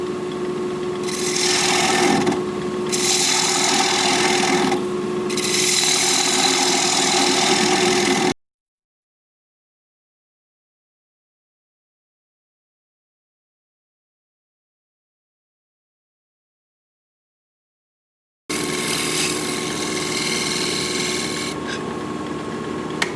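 A wood lathe hollows a pink dogwood bowl, with a steady motor hum and gouge cutting noise in two loud stretches separated by a long silent gap, and no talking.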